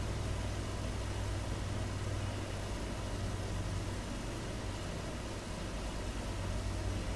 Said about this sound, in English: can you hear the engine spooling down some